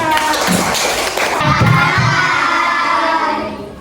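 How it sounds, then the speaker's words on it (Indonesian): Children in a classroom clap and shout together in a dense, sustained burst that stays loud throughout, mixed with young voices calling out. "Oke, tepuk tangan."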